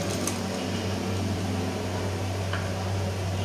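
Sewing machine stitching a straight seam slowly during a beginners' tailoring lesson, a steady motor hum with a continuous low drone, unbroken and fairly close throughout.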